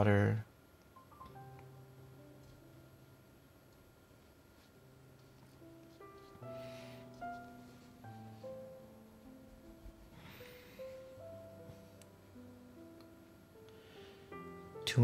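Soft piano plays sustained notes and quiet chords, faint and steady in the background, with a few short sharper sounds near the start and end.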